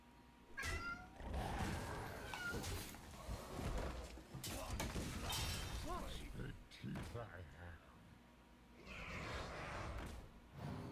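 A cat meows several times close by, drawn-out and insistent, amid thumps, clatter and bits of speech from the people nearby.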